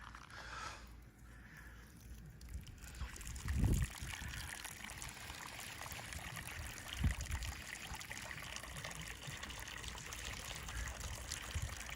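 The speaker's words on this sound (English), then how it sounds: "All right, I'm gonna turn on some water now." Tap water running steadily after being switched on, a continuous trickling hiss with a brief splashy gush near the start, fairly quiet and close, with no voices.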